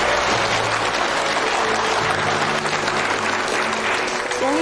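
A courtroom erupts in sustained, dense applause from many hands, steady and close throughout, with a voice speaking over it.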